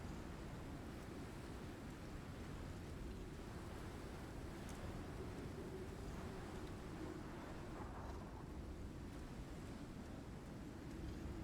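Thunderstorm in the survival video game Icarus: steady rain and wind with low rumbling thunder, a constant dense wash of noise throughout with no talking.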